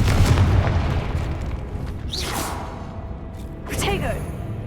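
Confringo blasting curse explosion in the Hogwarts Legacy video game: a loud booming blast at the start, followed by whooshing spell bursts and a second burst near the end.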